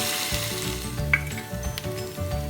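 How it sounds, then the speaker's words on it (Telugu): Onions and green chillies frying in a pan for mutton biryani, a close continuous sizzle with intermittent stirring scrapes and a brief metallic clink, no voices. "ఉల్లిపాయ పచ్చిమిరపకాయ, ఉల్లిపాయలు బాగా వేగాక"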